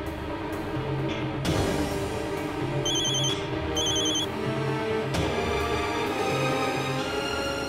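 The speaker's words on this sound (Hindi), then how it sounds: "फोन उठाओ" A mobile phone rings in repeated bursts inside a moving car over a busy backdrop of music and street noise, the electronic trill cutting in and out several times.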